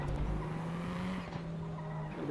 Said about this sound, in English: Locked up and brakes a bit there.